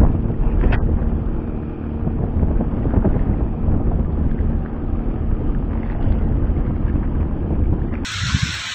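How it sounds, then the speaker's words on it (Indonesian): Strong wind at sea buffets the microphone during an estuary fishing trip by boat, a loud, steady roar of low rumble and hiss lasting throughout, with a brief higher-pitched burst near the end. "udah anginnya kencang, ombaknya juga udah keluar sini nih"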